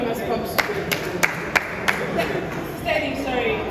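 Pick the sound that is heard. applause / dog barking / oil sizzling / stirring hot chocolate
applause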